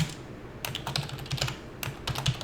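Fingers type on a computer keyboard, giving quick, irregular bursts of close, crisp key clicks with short pauses between them.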